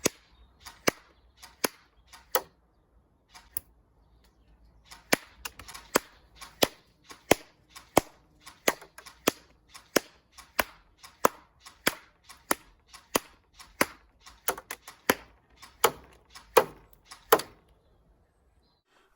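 A Specna Arms AK-105 airsoft rifle fires a long series of sharp single shots, loud and close, spaced irregularly with brief pauses and some quick pairs.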